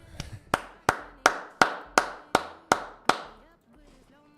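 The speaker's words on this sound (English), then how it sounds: "let's just give a big round of applause to Spartan here." A single person claps for a fellow trader during a live forex trading stream, about nine sharp, evenly spaced close claps in a steady rhythm, then a pause and one more clap.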